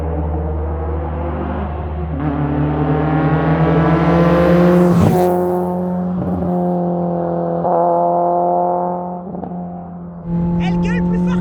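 A Peugeot 106 engine roars loudly while driving, a strong harmonic drone that climbs and falls through gear changes. It stays near and dominant throughout, with a brief dip before it surges back.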